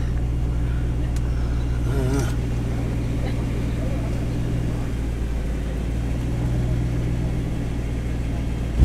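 A BMW M3 with a naturally aspirated V8 idles with a deep, steady, close rumble, with voices faintly over it and a small rise in level at the very end.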